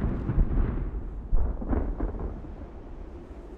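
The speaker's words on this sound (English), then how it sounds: "I'm hearing cannon fire at the back end over here" Deep, rumbling booms of cannon fire in an age-of-sail naval battle video game, several dull blasts rolling together at a distance, fading into a low rumble.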